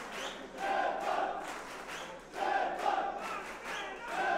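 A Munich crowd at a 2017 professional boxing match loudly cheering on their fighter, with two swelling waves of shouting and roaring in a large hall.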